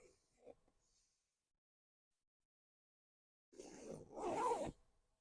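A short zipper pull on a pillowcase rasps briefly after a stretch of near silence, preceded by faint rustling of fabric.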